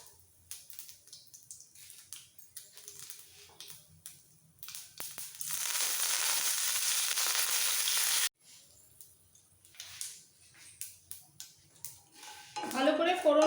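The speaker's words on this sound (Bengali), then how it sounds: "এইবার একে একে দিয়ে দেবো কালো সর্ষে, 1 পিঞ্চ মতো হিং, ছোট 2টো কারি পাতা" Black mustard seeds, a pinch of asafoetida and two small curry leaves hit hot oil for a tempering, bursting into a sharp, loud sizzle for a few seconds between quieter clinks and scrapes of utensils against the pan.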